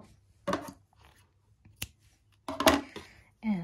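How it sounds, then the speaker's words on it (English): Scissors snip through crochet yarn in a few separate crisp cuts spaced across a quiet room, close to the listener, with a brief voice near the end. "And now I'm gonna cut my yarn."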